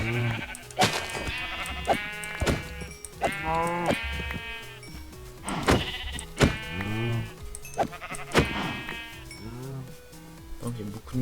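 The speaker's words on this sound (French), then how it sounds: "Mouton, mouton, mouton." Repeated sheep bleats in a survival video game, several overlapping calls spread across the stretch, close and fairly loud, with soft game ambience between them.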